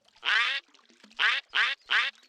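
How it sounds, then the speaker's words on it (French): Cartoon ducks quack four times in short, loud, nasal bursts, one on its own and then three close together, with nothing else heard around them. "c'était des vrais canards qui venaient d'arriver"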